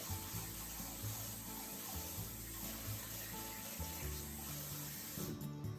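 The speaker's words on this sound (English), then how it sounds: "I'm going to cook the rice first, so let's rinse it." Running water splashes and swirls steadily in a sink as rice is rinsed and stirred gently, a soft, continuous watery rush with no voices.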